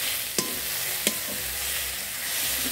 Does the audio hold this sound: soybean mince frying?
yes